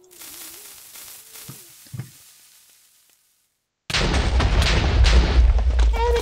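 A love bomb going off in Minecraft: after a near-silent stretch with faint small sounds, a sudden loud blast bursts in and keeps roaring as a thick, sustained rumble to the end.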